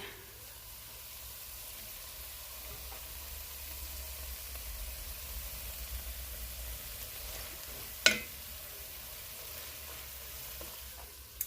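Jambalaya pasta simmers in a pot with a soft, steady sizzle and hiss throughout, broken by one brief clink near the end, with no talking.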